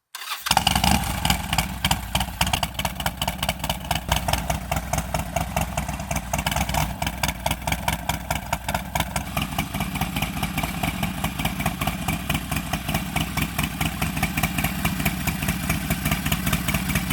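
A 2025 Harley-Davidson Sportster build cranks briefly and fires up, then settles into a loud, close, lumpy idle with an uneven rhythmic thump that continues steadily.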